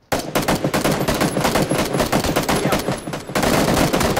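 Sustained automatic weapon fire in PUBG (PlayerUnknown's Battlegrounds), loud and close, rattling in fast bursts with a brief lull before another heavy volley.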